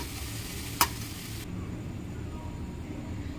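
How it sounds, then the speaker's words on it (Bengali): Cabbage for a cabbage and potato dish fries in a pan as it is stirred, making a steady, even sizzling hiss broken by one sharp clink early on. "এখন একবার নাড়িয়ে নেব। পাতাকপিটা এমন করে ভেজে ভেজে নেব।"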